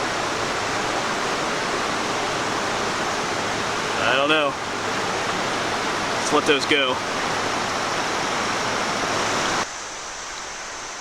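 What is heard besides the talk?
creek flowing through a small gorge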